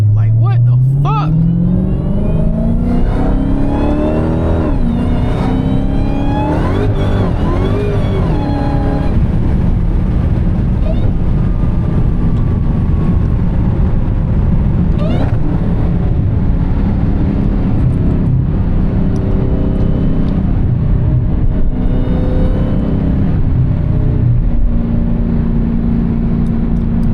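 A Dodge Hellcat's supercharged engine roars and revs with a rising supercharger whine building over the drone, loud and close throughout.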